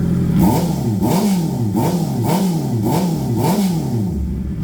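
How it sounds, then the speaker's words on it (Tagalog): A Honda CB650R E-Clutch motorcycle on a full aftermarket exhaust with its dB killer fitted revs hard and close. About five rising and falling throttle blips come in a steady rhythm, loud and with no talk over them. "So tunog big bike na. May DB killer pa yan ha."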